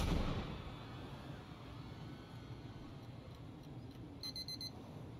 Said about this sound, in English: Beep, beep, beep, beep, beep, beep, beep, beep.